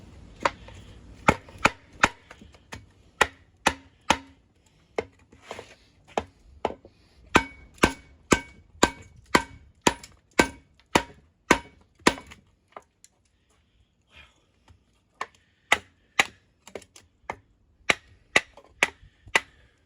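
A Bear Forest Knives Workhorse knife chops hard into a wooden bat, sharp loud thwacks in a steady rapid rhythm, a brief pause, then another run of strikes, close up with no talking.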